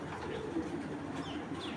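Soft, low cooing of hurricane pigeons in a loft, steady and close over a noisy background, with faint higher chirps.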